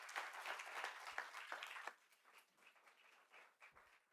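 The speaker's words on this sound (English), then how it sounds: "let's give another great round of applause for our moderator and our debaters." A debate audience applauds the moderator and debaters, a fairly faint, dense clatter of many hands that thins and tapers off after about two seconds.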